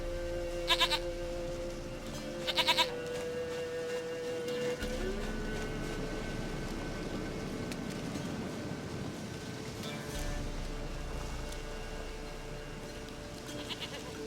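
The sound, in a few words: goat bleating in the video game The Witcher 3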